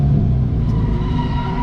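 An underpowered drift car back on the throttle, the engine roaring loud and close with a rough low rumble as it pulls through, strong and steady for the whole moment.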